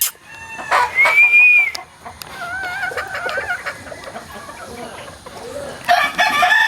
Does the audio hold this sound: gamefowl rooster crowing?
yes